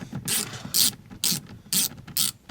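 A hand ratchet backs a bolt off a car speaker mount at night, giving five close, evenly spaced bursts of sharp metallic clicking with short quiet gaps between.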